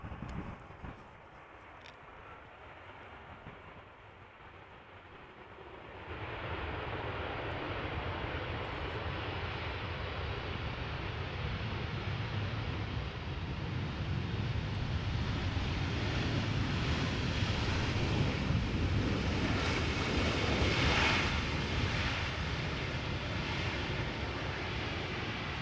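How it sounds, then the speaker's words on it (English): An Aegean Airbus A320 from Athens landing at Amsterdam Schiphol Airport, its engine roar rising suddenly from a quiet outdoor background and holding as a broad, steady rumble that swells toward the end, heard from a distance with some wind noise. "behind me an A320 landing"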